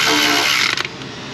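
A ratchet being worked to tighten a bolt during transmission work on a 2016 Chevy Tahoe with a 6L80 transmission, giving a quick burst of close clicking that fades out after about a second.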